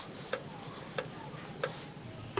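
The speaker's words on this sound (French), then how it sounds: "le tic-tic de la machine c'est trop stressant" Sharp mechanical ticks repeat at an even pace, about every two-thirds of a second, close by over a quiet background hiss.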